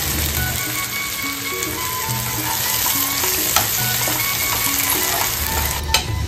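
Onion, ginger-garlic paste and chili fry in hot oil, a steady close sizzle with stirring scrapes, a faint musical tone running beneath and a couple of sharp clinks.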